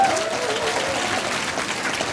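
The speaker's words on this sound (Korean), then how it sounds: "유민 씨한테 다시 한번 큰 박수 부탁드리겠습니다" Sustained crowd applause for a singer at a political talk concert, a thick, even roar of many hands clapping throughout, loud and unbroken.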